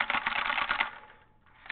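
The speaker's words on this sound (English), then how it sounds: "this is a mechanical switch keyboard. A buckling spring keyboard, if you will." Fast, loud clicky keystrokes on a buckling spring mechanical keyboard rattle in a quick burst, then stop briefly before one more key press, recorded close to the keyboard.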